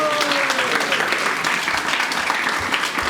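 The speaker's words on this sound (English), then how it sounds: "Let's give her applause as well." Audience applause at a Vyasapuja celebration for a spiritual teacher, a dense, steady crowd clapping that fills the whole stretch at a loud level, with a faint tone from someone's voice or an instrument fading out early.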